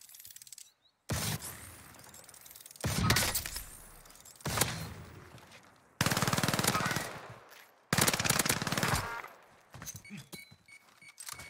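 A laser gun firing in the Warzone video game: four or five sustained bursts of rapid fire, each a couple of seconds long, separated by brief quiet gaps.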